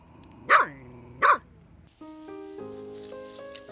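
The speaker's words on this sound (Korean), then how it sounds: "경계를 하며 이빨을 드러내는 오순이" A wary wild dog in a forest gives two sharp, loud barks about a second apart, followed by a stretch of tonal music.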